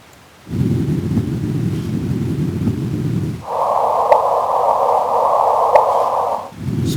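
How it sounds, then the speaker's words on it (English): Audio rendering of gravitational wave detector data, a steady broadband hiss of noise, first low and rumbling, then a higher band, with brief faint chirp blips near the end; no talking. "you can hear a kind of hiss, right? That is like that noise. But in that noise, at the end you see a bip."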